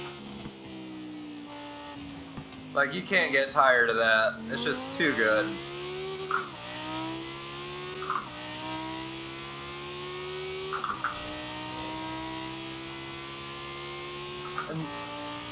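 An Italdesign Zerouno in Forza Horizon 4, heard from outside, holds a steady engine hum with a sharp burst of revving early on and a few smaller throttle blips later, while someone talks over it.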